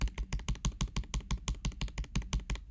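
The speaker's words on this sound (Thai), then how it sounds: "อ่าบัตเตอร์ไฟคีย์บอร์ดดังประมาณเนี้ย" Fingers type on a MacBook butterfly keyboard, with a quick, even run of roughly sixteen close, clicky keystrokes and no talking.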